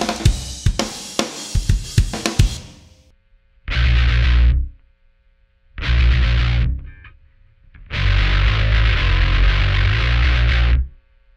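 Drum mix with SSL processing, layered samples, saturation and reverb applied: a few seconds of crisp, punchy hits give way to dense, heavily saturated bursts that cut off abruptly between silent gaps.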